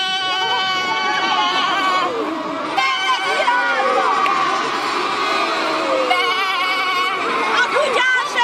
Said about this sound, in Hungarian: Hát nézd már, mennyi birkám van!